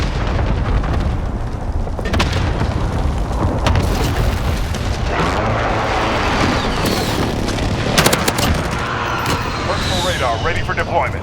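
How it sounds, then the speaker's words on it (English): Precision airstrike explosions in Call of Duty rumble and boom continuously, with heavy low blasts, crackling debris and sharp bursts layered under radio-style voice chatter throughout. "Precision airstrike inbound."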